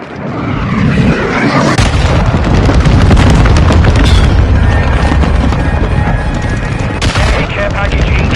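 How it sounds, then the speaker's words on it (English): Cruise missile explosion in Call of Duty Modern Warfare 2, a heavy booming blast that rolls into continuous loud rumbling and crackling gunfire-like debris for several seconds, with chaotic game battle noise throughout. "Hostile cruise missile incoming."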